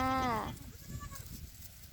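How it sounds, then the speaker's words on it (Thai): Goats on a goat farm are released onto a grass plot; one goat gives a single wavering, quavering bleat at the start, followed by milder farmyard background noise. "ช่วงเช้านี้ปล่อยแพะลงแปลงกันนะคะ"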